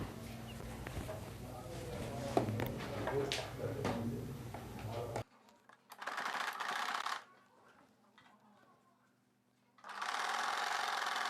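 A sewing machine stitches the side joint of a blouse in bursts: a rapid mechanical chatter at first with a voice talking over it, then short separate runs of stitching with quiet gaps between them.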